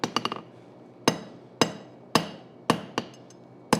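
Hand hammer forging hot metal on an anvil, smoothing out hammer marks: a quick flurry of sharp ringing strikes, then single blows spaced about half a second apart, each ringing briefly. Close and alone.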